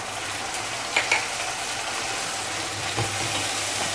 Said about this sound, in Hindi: अब हम इसमें डालेंगे थोड़ा सा शेजवान चटनी